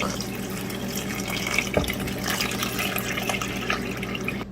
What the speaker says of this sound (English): Add in the milk.